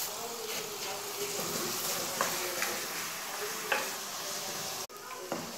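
Turmeric and browned onions roasting in a pan for boneless chicken handi, a soft steady sizzle with occasional stirring scrapes and a clack near the end, fairly quiet and close.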